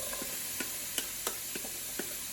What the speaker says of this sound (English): let's add our vegetables